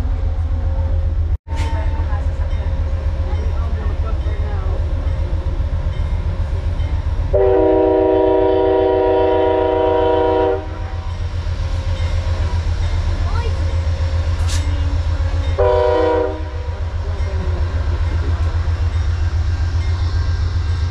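A loud continuous Amtrak train rumble with two blasts of a train horn, one long and one short, over constant mechanical noise.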